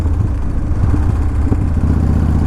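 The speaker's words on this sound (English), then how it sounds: "It really is a Harley Davidson Softail." A custom Harley-Davidson Softail on an airbag-modified frame with a giant motor rumbles loud and close in a steady, throbbing low engine note with slight pulsing, and no voices.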